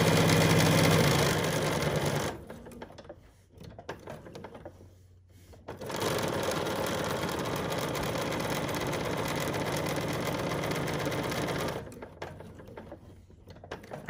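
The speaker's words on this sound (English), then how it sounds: "I'm sewing this on my Bernina 790 Plus" A Bernina 790 Plus sewing machine stitches through quilting fabric, running in two steady, close-up bursts of rapid mechanical whirring with a brief quieter pause between them and a softer tail at the end.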